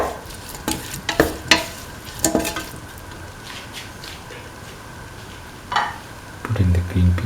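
Tomato pieces and green chili are stirred into frying beef, giving several bursts of scraping and squishing over a low sizzle, with a louder stirring burst near the end.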